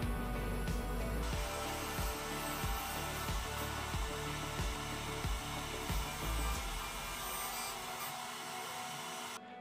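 Laguna KX24 CNC router running after Cycle Start produces a steady loud whirring drone with a regular pulsing beat beneath it, near and continuous, no speech.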